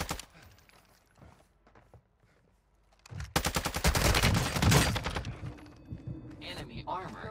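Rapid automatic gunfire in Call of Duty: Warzone 2 erupts loud and close after a few quieter seconds, a dense burst of shots lasting about two seconds before tapering off, with game voice lines around it.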